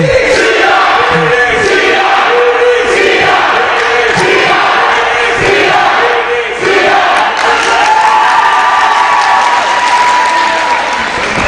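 Crowd cheering and applauding at a junior girls volleyball final between PDCI and NDCHS, a loud, dense roar of clapping and shouts that holds steady from start to end.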